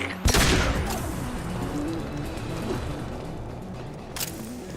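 A loud, sharp blast from mining charges going off to clear rubble in a video game opens the clip, followed by sustained rumbling debris and battle noise with another burst near the end.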